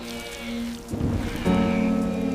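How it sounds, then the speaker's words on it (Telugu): Heavy rain in an animated story about a small goat: a broad hiss of downpour that swells in partway through and grows louder, sitting under sustained background music with no talking. "ఒకరోజు భారీ వర్షం వచ్చింది."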